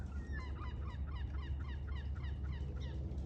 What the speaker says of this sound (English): Or a couple gulls